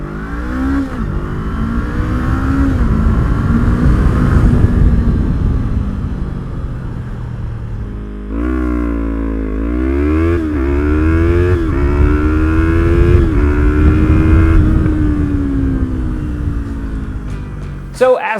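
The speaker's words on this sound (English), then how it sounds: "the acceleration on these two bikes are actually very comparable" Two motorcycles, a 300cc and a 500cc, accelerate hard in turn, each engine note climbing through rising gear pulls with a brief drop at a shift midway, loud and close throughout.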